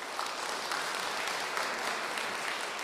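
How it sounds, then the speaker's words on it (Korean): A church congregation at a harvest Thanksgiving service claps steadily and evenly in warm applause to welcome a student speaker, with no talk over it. "박수로 환영하겠습니다"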